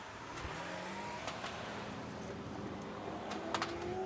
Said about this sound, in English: Here comes the Urus. All right. Hit it.